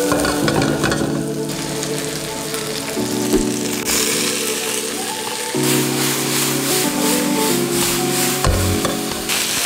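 Garlic and onion fry in oil in a wok for a quick tomato and egg dish, giving a steady, loud sizzle with scraping stirs and clanks throughout, close up and with no talking.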